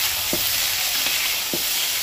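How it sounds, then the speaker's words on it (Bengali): Mixed vegetables and eggplant fry in plenty of oil, a loud, close, steady sizzle with three soft knocks of a spatula against the pan. "এবার বেগুনটাকেও ভালো করে ভেজে নেব। দেখো সমস্ত সবজি ভালো করে ভাজা হয়ে গেছে।"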